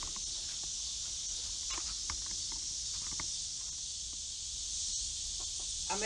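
Chickens cluck and mutter inside a crowded chicken coop, a steady scatter of short calls at close range over a constant background hiss, with some shuffling movement.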